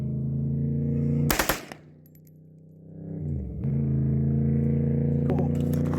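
A forced reset trigger gun fires a rapid burst of shots, loud and close over a constant idling engine drone, followed after a pause by a second quicker burst near the end.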